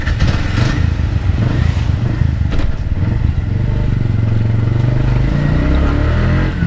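A tuk-tuk engine runs in Sri Lanka, a loud, close, rattling motorcycle-like putter with steady clatter and a rising revving drone in the second half, continuous throughout.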